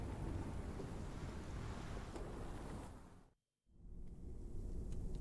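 A storm in The Pillars of the Earth, steady roaring rain and wind with a low rumble, constant and fairly faint, briefly dropping out before returning.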